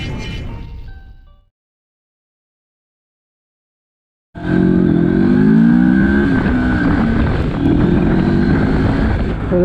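A CF Moto 650GT motorcycle's engine and exhaust roar up loud and close after an abrupt silence, a steady revving drone with pops, preceded by a short burst of noise that fades out.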